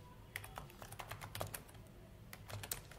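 Fingers type on a computer keyboard in a terminal, tapping out a quick irregular run of soft, close keystrokes over a quiet background hum.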